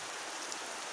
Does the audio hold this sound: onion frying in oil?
no